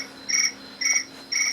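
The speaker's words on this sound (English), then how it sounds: "I'm going to shut off the crickets." Crickets chirp close by in three steady, evenly spaced bursts of shrill trilling over a faint constant hum.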